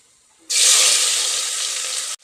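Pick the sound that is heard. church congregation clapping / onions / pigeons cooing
onions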